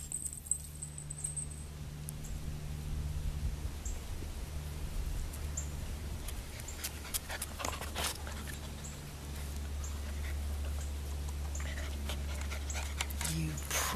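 A puppy pants steadily between throws during fetch training outdoors, with a voice talking softly over the quick, close breathing and faint rustles and jingles.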